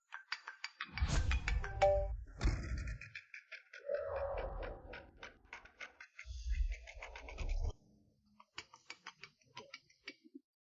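A phone ringtone plays in a drama, its bright electronic melody repeating in short bursts with brief gaps between them.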